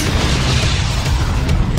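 A toy cannon firing during LEGO play, rendered as a loud, continuous booming blast with a dense low rumble that holds steady for about two seconds.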